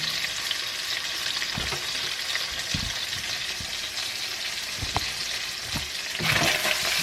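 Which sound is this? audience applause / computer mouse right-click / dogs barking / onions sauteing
onions sauteing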